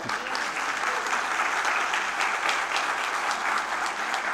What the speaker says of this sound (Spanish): Un aplauso a nuestros pastores, por favor.